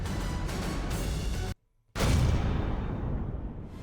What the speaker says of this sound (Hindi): सुनिए इस धमाके को